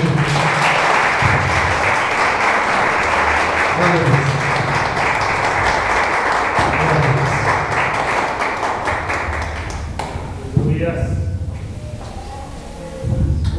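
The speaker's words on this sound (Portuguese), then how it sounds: "Dê uma salva de palmas para Jesus" Congregation clapping in a church service, applause for Jesus after a sermon, a loud continuous wash of many hands clapping that holds steady throughout, with a brief thump near the end.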